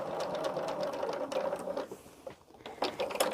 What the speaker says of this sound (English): Now we're just going back over that same stitch line.